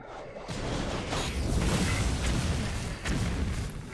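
Bombs exploding in the Hearthstone card game: a deep, rumbling boom swells up after a brief quiet start and sustains loudly, with a second thump rising toward the end, no voice over it.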